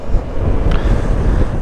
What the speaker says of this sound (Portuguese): E está muito vento aqui.